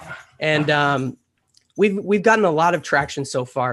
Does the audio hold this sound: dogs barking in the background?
yes